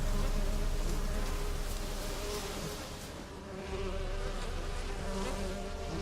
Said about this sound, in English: I hear you, bees.